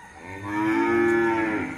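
A bull bellows at a cattle farm in Càng Long, Trà Vinh, where a lot of over thirty bulls is kept: one long, loud, close moo that swells and fades.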